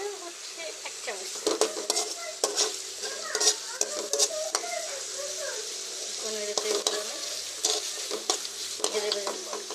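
Drumstick (sajna) curry frying and being stirred in a pan with a little oil, a steady close sizzle broken by repeated scrapes and clinks of a spoon against the pan, with no talk.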